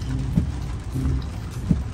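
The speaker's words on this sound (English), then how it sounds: "Who ordered up the rain?" Steady rain patters in a dense low wash, with a few heavier thumps of drops striking a surface nearby.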